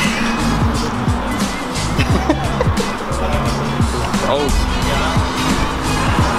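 Small electric vehicle driving on a race track at the Hockenheimring e-car test event, with a steady loud motor and tyre noise running throughout while people talk over it.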